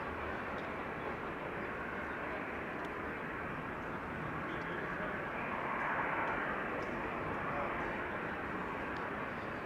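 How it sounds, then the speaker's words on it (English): A KLM Embraer 190 from Newcastle lands at Amsterdam Schiphol, its broadband engine roar steady and moderately distant, swelling slightly midway through. "Next to land is an Embraer 190 arriving from Newcastle."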